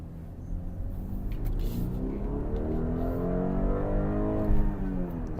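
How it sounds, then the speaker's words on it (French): A 300-horsepower BMW accelerates up a hill, its engine note climbing steadily in pitch as it pulls hard. The deep, rumbling exhaust sounds from inside or close to the car, with a brief louder burst near the end. "on va faire une petite accel dans la montée après"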